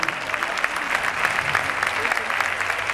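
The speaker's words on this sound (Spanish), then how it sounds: "Fuerte el aplauso." Audience applause at a tango festival in Buenos Aires: dense, steady clapping from a crowd that carries evenly through the full three seconds, with a few faint voices mixed in.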